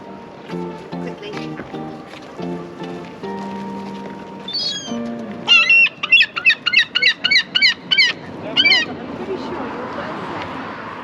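Seagulls and pigeons squabble over chips on a seafront: a run of loud, rapid gull cries and squawks in the middle, with calls, distant honking tones and people talking around them.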